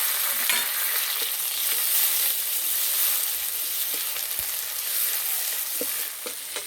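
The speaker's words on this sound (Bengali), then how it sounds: "তেলে দেবো কাঁচা লঙ্কা, গ্রেট করা রসুন, গ্রেট করা আদা। এবার দেবো কোচানো পেঁয়াজ, কোচানো টমেটো।" Chopped onion and tomato frying in oil with green chilli, grated garlic and grated ginger, giving a loud, steady sizzle close by, broken by occasional stirring scrapes, with no talking.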